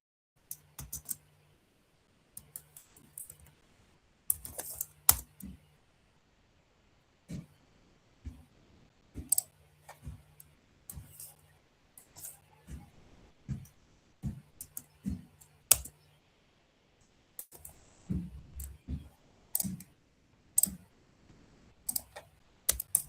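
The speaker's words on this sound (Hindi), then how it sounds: "जैसे मैंने CMD प्रेस किया, CMD प्रेस करने के बाद एंटर किया" Keys clatter on a computer keyboard in scattered bursts of typing with short pauses and a firmer press or two, close and moderately quiet, as a command is entered to open a command prompt; nobody speaks.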